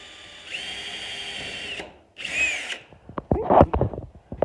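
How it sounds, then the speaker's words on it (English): Power drill pre-drilling small holes through a metal roof on a cabin, heard as two close, loud whirring bursts followed by sharp scraping and clattering. "So I'm just gonna pre-drill this with my left hand."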